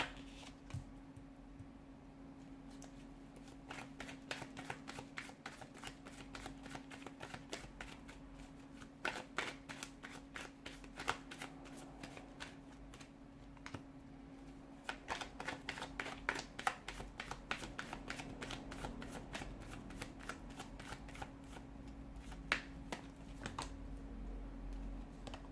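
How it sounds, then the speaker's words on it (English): Tarot cards are shuffled in a steady stream of crisp riffling and flicking, alone and close, with a continuous low hum underneath. "let's go ahead and give the cards a shuffle"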